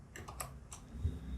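Quick burst of computer keyboard typing while entering a line of Java code, about four or five crisp close keystrokes in a short run, quiet, with no speech.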